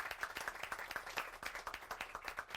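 Audience clapping at an afternoon event in a library, a modest group producing distinct rhythmic claps at moderate distance, fairly quiet and steady, with a faint voice now and then.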